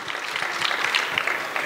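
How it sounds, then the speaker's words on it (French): A conference audience gives brisk, steady applause at a Miraculous talk with Thomas Astruc, a short burst of clapping filling the room. "ça mérite effectivement applaudissements."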